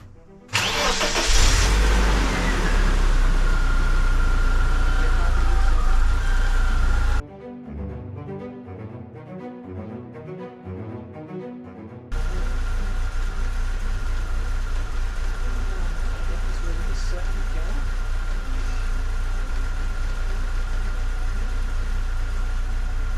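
A BMW Z3 roadster engine cranks and fires, revving loudly for several seconds, goes quiet briefly, then settles into a steady, close idle that drones on without talk.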